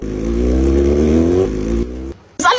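A motorcycle engine revs hard, close and loud, holding a steady roar before cutting out, followed by a short burst of noise.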